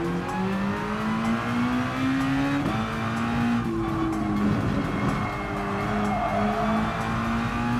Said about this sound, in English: barely hear the Red Bull X2014 engine sound from Gran Turismo 6